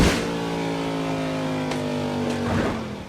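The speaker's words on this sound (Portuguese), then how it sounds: "Um veículo acelerando em nossa direção." A vehicle engine roars and accelerates toward the listener, a steady loud drone with rising harmonics and a swell near the end, no voices.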